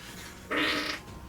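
A single fart of about half a second sounds close and loud as a short buzzing blurt against quiet room tone.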